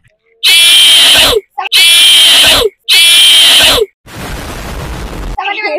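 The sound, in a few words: man imitating a horse sound with his voice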